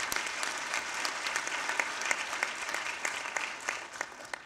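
An audience at a United Nations International Women's Day event applauds in a dense, steady burst of clapping with no pause.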